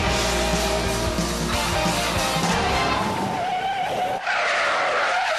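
A car skids loudly in a sustained, full-bodied screech as a motorway pile-up closes a song, the tire noise running under heavy rock-track texture before cutting away near the end.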